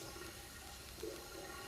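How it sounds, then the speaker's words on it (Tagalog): Water runs steadily, like an open tap, at an abandoned Olympic-size pool in the forest of Mt. Makiling, a continuous soft rushing wash with no voices. "Parang bukas yung gripo na may nagsasali ng tubig"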